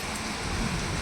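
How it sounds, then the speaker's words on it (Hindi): Heavy rain pours down outside in a steady, dense roar of drops with no pauses, close and loud throughout. "बारिश हो रही है बाहर इतनी झमाझम"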